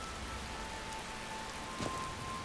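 Steady rain falls in a fantasy video game set in Cyrodiil, a soft, even hiss of drops with one brief louder splash partway through.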